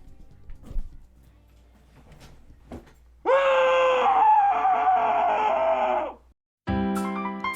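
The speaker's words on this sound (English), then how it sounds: "I need to scream now" A person lets out one long, loud sustained scream lasting about three seconds, preceded by quiet background noise and followed by a brief gap and a tonal sound.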